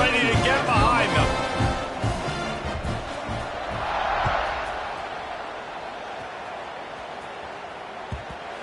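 A college football stadium crowd just before kickoff, a broad roar that swells and fades, heard under a close commentator's voice.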